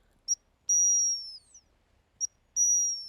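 A dog training whistle blows a short pip followed by a long, steady blast, and the pattern repeats twice, shrill and clear against a quiet background.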